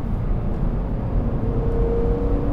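A BMW M car engine runs at a steady, loud drone with a deep, full tone, close by and with no voices over it.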